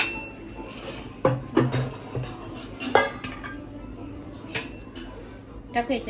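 A spoon clinks against a bowl or plate while salt, lemon and chilli are mixed, giving scattered metallic taps and scrapes at an irregular pace as someone talks throughout.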